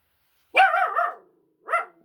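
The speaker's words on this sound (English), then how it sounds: "Can you stop barking, please?" Two close dog barks, the first longer and drawn out, the second short, with silence between them.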